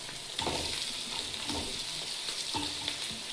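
Tomatoes dropped into a hot pan after herbs like mint and coriander have fried well, a continuous sizzle and hiss with a few stirring scrapes, close and moderately quiet, no talking.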